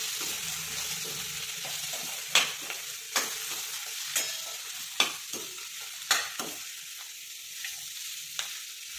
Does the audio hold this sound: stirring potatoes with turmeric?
yes